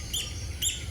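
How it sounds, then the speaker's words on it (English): Two short, high bird chirps about half a second apart, bright and clear over a low steady background hum. "Let's just listen to some birds chirping."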